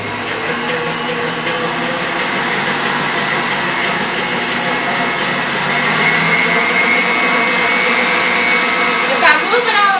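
An electric mixer whirs steadily through caramel cake batter for a Southern caramel cake, a loud continuous motor drone close by that rises slightly in strength partway through.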